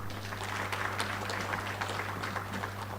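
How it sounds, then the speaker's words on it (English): Attendees at a Tanzanian Episcopal Conference liturgy gathering applaud, a steady mass of clapping over a constant low electrical hum. "Again, applause, please."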